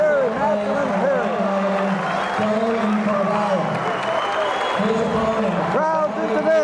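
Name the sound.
crowd cheering at a high school wrestling match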